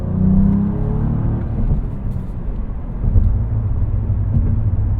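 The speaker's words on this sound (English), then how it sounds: "Makes some good sounds. The exhaust has character." The exhaust of a Cadillac CT4-V Blackwing booms as it accelerates, heard from inside the car as a loud, steady low drone with a rising rev at the start and continuous engine rumble throughout.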